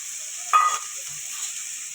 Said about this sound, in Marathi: तेलामध्येच कांद्याची पाट पण फ्राय करायची चांगली आणि हे आपण भिजू घातलेली चण्याची डाळ ते पण टाकते मी